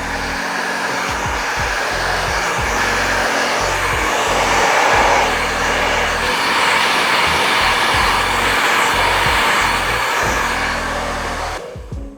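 A 5S barber hair dryer blowing steadily at close range while drying hair, a loud continuous airy whoosh with slight shifts in pitch as it moves, cutting off at the end.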